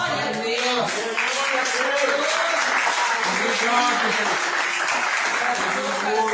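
Congregation at a Thursday Pentecostal church service claps for the Lord, continuous applause mixed with singing or voices and music throughout.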